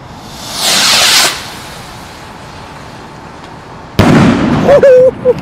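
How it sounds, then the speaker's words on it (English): A Ghost Warrior salute rocket firework goes off outdoors: a loud whooshing burst for about half a second, then quiet, then a sharp loud bang with crackling and a whistling tail near the end. "Ghost Warrior rocket, and here is a demo video."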